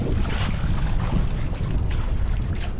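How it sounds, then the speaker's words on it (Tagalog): Strong south wind buffets a small fishing boat out on open water, a continuous loud rushing roar of gusts and microphone wind noise with no clear gaps. "lakas na ng hangin mga katangay"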